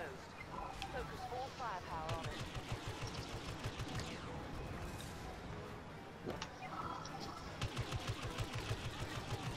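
Rapid bursts of gunfire and explosive crashes from the Star Wars Battlefront beta, dense and continuous, with voices talking over the chaos.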